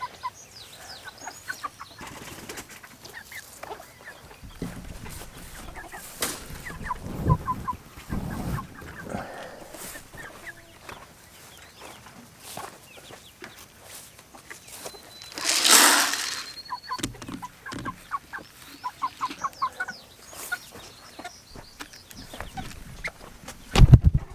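Chickens on a farm, among them an injured hen, cluck and call intermittently at moderate distance amid quiet outdoor ambience, with a louder burst of squawking midway and scattered soft clucks throughout.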